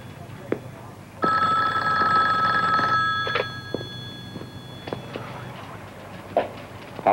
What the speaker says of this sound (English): Savage, answer the phone